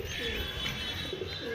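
Pigeons cooing softly in a loft, faint, continuous low coos with a little chirping mixed in.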